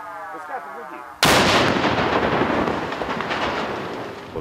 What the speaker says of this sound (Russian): Вот сейчас вы наблюдали взрывное обрушение этой сетки.